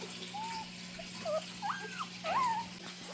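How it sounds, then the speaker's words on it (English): Young mixed Maremma and Great Pyrenees puppies whimper, several thin, rising and falling squeals close by over a low steady hum. "here's the surprise litter of mixed puppies"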